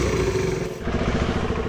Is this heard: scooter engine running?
yes